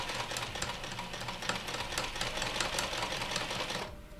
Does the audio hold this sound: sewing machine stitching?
yes